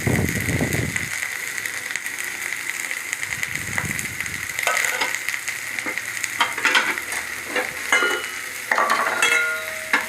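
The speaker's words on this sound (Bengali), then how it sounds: "পেঁয়াজ রসুন লঙ্কা টমেটো কুচি সব একসঙ্গে ভেজে নেবো নাড়াচাড়া করে নেবো" Chopped onion, garlic, chili and tomato fry together in a pan, a steady sizzle broken by repeated clattering stirs and scrapes of a spoon against the pan, close and clear.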